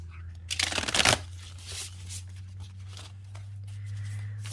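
A deck of Starchild Akashic tarot cards is shuffled with a quick riffling burst up close, then settles into softer card handling and rustling with faint background hum.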